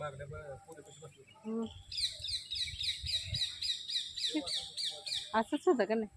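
Rapid, repeated high-pitched chirps from birds near a riverside ghat by a Mahadev temple run through the middle of the clip, with people talking before and after the birdsong.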